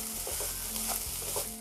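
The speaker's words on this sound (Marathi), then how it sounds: "आता आपण 3-4 मिनिट परतवून घेऊया" Coconut barfi mixture of grated coconut and melting sugar being sautéed and stirred in a pan, a brief close sizzle with soft rhythmic scraping of the spoon, no voices.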